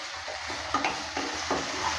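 Onion, capsicum and green chilli frying in a pan while being stirred, a steady sizzle broken by a few soft scraping strokes of the spoon over about two seconds.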